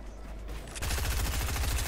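Rapid submachine gun fire in the video game Fortnite, a dense continuous burst of close, loud shots starting abruptly after a brief quiet lead-in.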